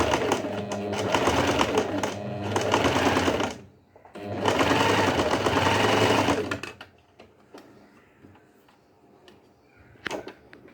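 A sewing machine stitches heavy blouse hangings in two long, loud bursts of rapid mechanical whirring separated by a brief stop, followed by quieter clicks and handling noises.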